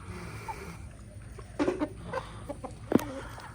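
Chickens and roosters cluck in a farmyard, a few short, loud bursts of fowl calls over quiet background noise.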